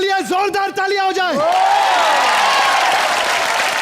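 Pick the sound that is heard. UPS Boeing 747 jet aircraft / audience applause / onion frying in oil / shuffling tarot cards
audience applause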